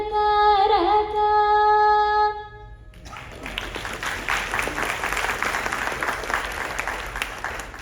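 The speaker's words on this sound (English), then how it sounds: "give a big round of applause for our two talented young demonstrators" After a sustained musical tone at a Carnatic music lecture-demonstration, an audience breaks into applause for two young demonstrators, a steady, dense clapping from a seated crowd that carries on to the end.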